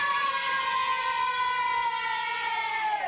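A wailing siren holds steady tones with a slight falling sweep near the end, loud and continuous, with no voices.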